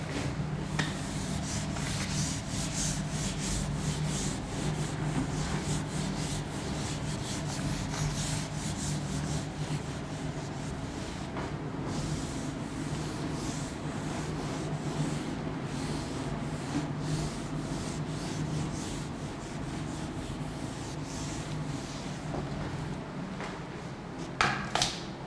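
A blackboard eraser rubs chalk off a classroom board in steady, continuous strokes, a dense scrubbing texture held at an even level from start to finish with no voices.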